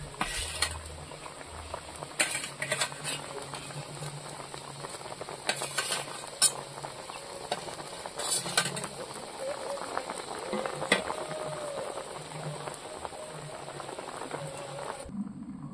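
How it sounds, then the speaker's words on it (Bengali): A pot of fish curry with potatoes bubbles and simmers steadily on the stove for the whole stretch, a soft continuous boil with occasional stirring clatter, close by and moderately quiet. "তরকারি ফুটে উঠেছে, এবার ভেজে রাখা মাছগুলো দিয়ে দেবো"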